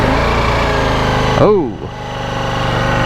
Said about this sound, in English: It's got a very loud cold start through this